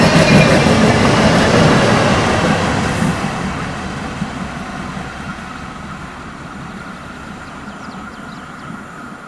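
RB14 regional train passing on the tracks in Mecklenburg, a loud, close rumble of wheels and carriages that fades gradually as it rolls away, with no talk.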